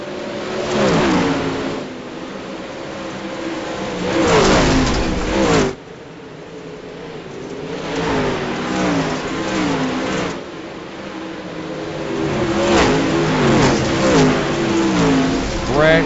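Dirt late model race cars roar past at Eldora in a pro late model race, their engines rising and falling in repeated loud surges as cars sweep by, with a commentator talking over the noise.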